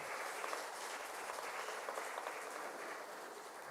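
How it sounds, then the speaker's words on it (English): Steady, dense applause from an audience filling a college HR conclave hall, even and sustained throughout with no voices rising above the clapping. "Kindly give a huge round of applause."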